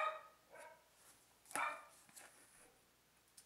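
Faint barks from two dogs in the distance, a few short yips spaced out over a quiet background.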